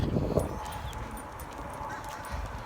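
A dog on a walk near a dog park, with soft close thumps and faint rustling movement, quiet and brief.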